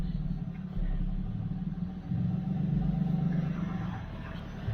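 A pickup truck pulling a trailer rumbles steadily while turning around, its engine droning low and close with small shifts in load, no one speaking.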